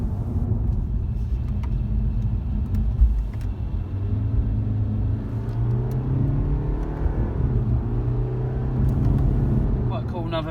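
A 2017 BMW 520d M Sport diesel engine revs in first gear, a steady close rumble with the engine pitch rising and falling across the clip.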